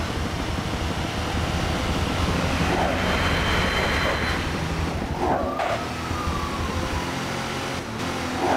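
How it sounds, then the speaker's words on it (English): A train in the Midnight Club 3: Dub Edition racing game roars past loudly and steadily, a continuous rumble of rail cars over the game's engine noise with no talking. "I almost drove into the train."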